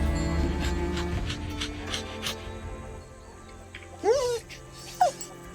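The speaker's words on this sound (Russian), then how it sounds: "Хорошая собака." A dog in the video game Yaga whimpers with two short, high yelping whines near the end, close and fairly loud, following a stretch of game music and background ambience.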